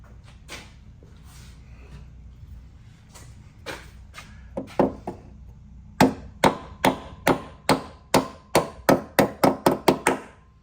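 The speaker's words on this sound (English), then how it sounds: "now I'm gonna tap on it with a hammer to finish pushing it in" A hammer taps on a metal brake hose clip on a 2012 Nissan Altima, a few scattered knocks at first, then a quick steady run of about a dozen sharp, close strikes.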